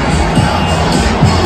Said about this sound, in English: Redskins just scored a touchdown.